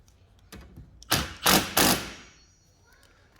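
Tightening the bolt on a 2010-2014 Toyota Prius front strut, heard as three short, loud mechanical bursts in quick succession, close up, then fading into quiet.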